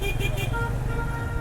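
Busy, chaotic road traffic near Saif ul Malook lake: engines rumbling close by with short car horn toots, while someone talks over the noise.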